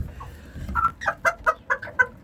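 A chicken under a shelter clucks in a quick series of short, nasal calls, close by and fairly quiet, with a soft rustle underneath.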